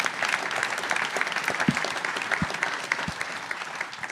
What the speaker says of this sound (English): you all deserve a great round of applause